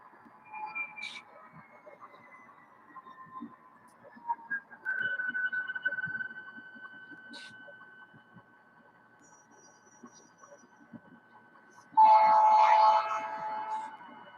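Railroad cars rolling during switching on an upper-level track, with a long descending squeal of wheels, a few clanks and a louder screeching burst near the end, fairly quiet overall with no talk.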